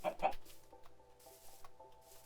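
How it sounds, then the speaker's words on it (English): Chickens in the video game Minecraft cluck in a few short, quiet calls against a soft background, starting with a louder pair of clucks and then fading into fainter ones. "Listen to those chickens."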